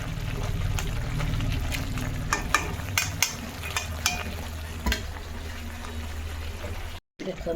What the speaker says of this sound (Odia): ଏବେ କି ମାଛ ଯେ ଖାଲି ଫୁଟୁଛି